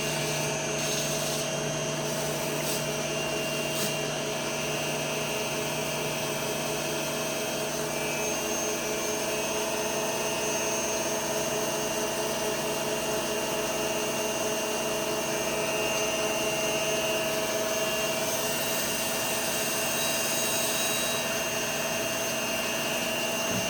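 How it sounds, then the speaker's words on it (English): A cam grinder's wheel is dressed flat in a camshaft shop, a steady loud whirring hum with a high-pitched machine whine that runs unbroken throughout, with no talking. "So he's dressing the wheel now to get the wheel so that it is flat. And smooth."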